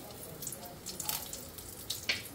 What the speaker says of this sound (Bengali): এবার এই ফোড়নে তেজপাতা আর এই শুকনো লঙ্কাটা দিয়ে দেবো,